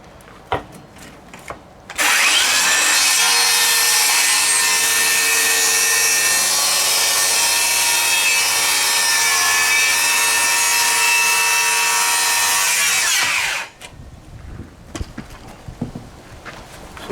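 A hand saw cuts through wood at a 45 degree bevel, a loud, steady run of rasping strokes lasting about eleven seconds, preceded and followed by quiet handling knocks and taps.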